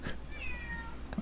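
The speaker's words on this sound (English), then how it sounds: "I hear your cat in the background." A cat meows faintly in the background, a few soft calls set against a steady low hum during a racing championship broadcast.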